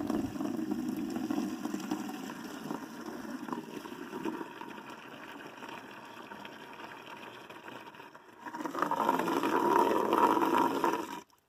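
Water runs into a container for harvesting vegetables, a steady gushing stream that softens midway, then swells louder and fuller before stopping abruptly.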